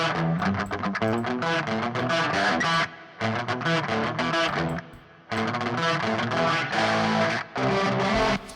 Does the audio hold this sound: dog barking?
no